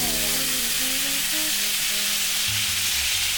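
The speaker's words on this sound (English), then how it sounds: "You hear the sizzle?" Steady crackling sizzle of bacon-wrapped filet mignon frying in hot grease, continuous and close, with a few low hums underneath and no talking.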